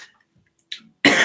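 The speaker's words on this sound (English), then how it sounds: "get all the coughing up and out the way before the reading" A single short cough comes close up, followed after a brief silence by a loud, harsh burst of coughing.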